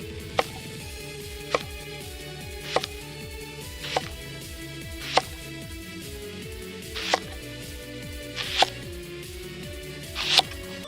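A knife slicing diagonally through a leek on a cutting board, from the white up into the green, gives about nine crisp, evenly spaced chops over a low background hum, growing slightly sharper toward the end.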